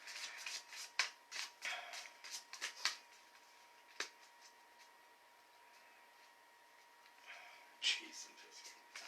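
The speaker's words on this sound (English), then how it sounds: "let me know when you want me to start shuffling and we'll draw your cards" Tarot cards are shuffled close by in quiet bursts of riffling and light slaps, pausing midway before a final flurry, with faint talk in the background.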